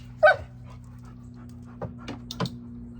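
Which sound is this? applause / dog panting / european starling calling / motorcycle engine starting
dog panting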